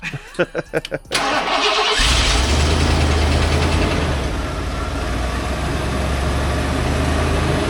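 A Ford Bronco engine cranks in several quick starter bursts, catches after about a second, then settles into a loud, steady idle with a deep exhaust rumble close by.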